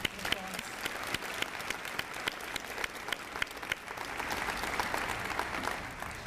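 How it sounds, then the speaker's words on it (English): An audience at a 2014 UAFS event applauds, a dense sustained round of clapping that swells slightly toward the end, with scattered voices and cheers mixed in. "Let's give them another round of applause."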